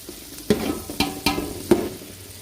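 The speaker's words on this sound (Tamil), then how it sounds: "நீங்கள் ஆனியன் போட்டுக்கோங்க போட்டு அப்படி வறுத்துக்கிட்டே இருக்கணுங்க" Onions frying in a pan for chicken biryani, stirred with a spoon: four distinct scraping clacks of the utensil against the pan over a low background sizzle, no voices.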